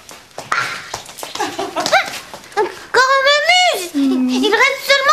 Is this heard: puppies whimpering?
yes